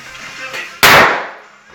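A single sharp firecracker bang goes off close by indoors after a moment of low background noise, its loud burst decaying over about half a second.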